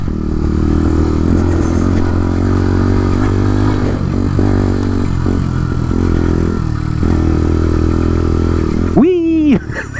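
A Bullit Hero 125 motorcycle on knobby tires rides off-road, its engine droning steadily and loudly with a brief rev near the end, while a rider talks over the noise.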